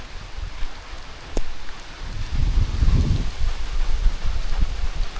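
A heavy mountain downpour on Mt. Romelo in thick fog, steady hiss of rain swelling louder midway with deep rumbles and a sharp knock.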